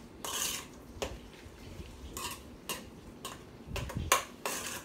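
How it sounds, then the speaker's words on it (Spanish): Spoon clinking and scraping against a bowl while corn salad for a crab salad is mixed together, a series of irregular sharp taps and rubs, close and fairly quiet. "aquí vamos a mezclar todo."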